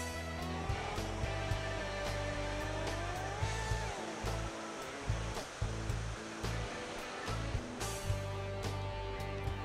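Steady rushing water fills the clip, a broad continuous wash with faint clicks and thumps scattered through it.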